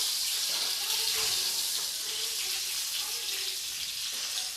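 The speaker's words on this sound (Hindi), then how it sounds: "अब मैं इसे हाफ़ कुक होने तक फ्राई कर लूँगी।" Stuffed brinjal, Andhra-style bharwa baingan, shallow-frying in a pan over a low to medium flame, giving a steady, even hiss of sizzling oil with no one talking.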